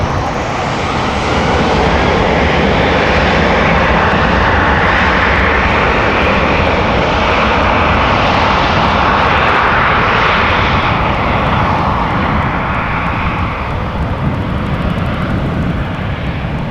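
A KLM Boeing 737-800 jet, thirteen years old, at Amsterdam Schiphol airport, its engines producing a loud, steady roar with broad hiss that holds strong and fairly close throughout before easing slightly at the end.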